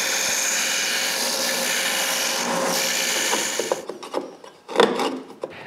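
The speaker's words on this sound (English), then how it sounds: "I need to sand it a bit." A power sander runs on a wooden fishing rod rack with a loud, steady whirring rasp that cuts off after about four seconds, followed by scattered knocks and handling noises.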